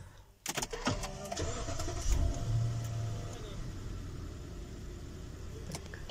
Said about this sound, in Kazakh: Машина оталды.